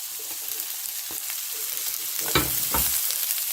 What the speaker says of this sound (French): Puis ajouter les oignons. On remue. Les poivrons.